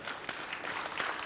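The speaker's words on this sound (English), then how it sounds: "Let's give them a round of applause for that." Applause from an audience at a panel event on local pharmaceutical manufacturing: a faint, steady patter of clapping that holds evenly for a little over a second, with no voices over it.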